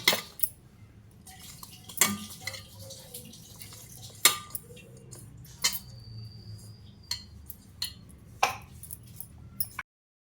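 Chapati-style wheat flour dough with soda being mixed and kneaded by hand in a metal bowl, with scattered clinks and soft sticky squelches at an uneven pace.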